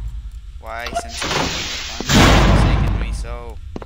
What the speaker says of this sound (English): I heard doors.